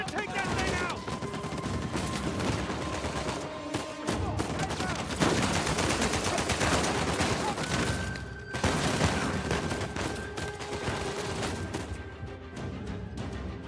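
Turret gunfire in Uncharted 4, dense rapid bursts of automatic fire hammering almost nonstop and loud, with explosive cracks layered in and game voices shouting over the barrage.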